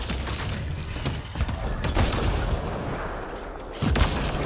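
Gunfire in the sci-fi shooter Mass Effect Andromeda, a loud, dense burst of rapid shots and impacts running for several seconds with a heavier thump near the end.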